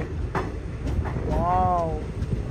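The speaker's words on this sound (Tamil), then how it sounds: "ட்ரெயின் எப்படி போயிட்டுருக்கு பாருங்களேன், பாம்பு மாதிரி வளைஞ்சி போயிட்டுருக்குதுங்க." The Poorna Express, in sleeper class, runs on rails around a sweeping curve, making a constant loud rumble with a few sharp knocks and a brief tonal squeal in the middle.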